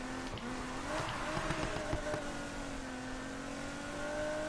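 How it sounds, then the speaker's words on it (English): A V8 car engine revs steadily in the Need for Speed Heat racing game, a sustained droning roar with rising and falling pitch, joined briefly by a few sharper bursts around the middle. "Not sure what engine I put in this, but it sounds like a V8 to me."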